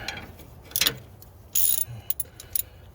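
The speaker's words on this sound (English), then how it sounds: "This one, you need a ratchet helps on this one." A ratchet wrench tightens a bolt on the three-point linkage of a John Deere 3025E tractor during a repair. A few short, close bursts of metallic clicking sit between quieter handling noises, with no talking.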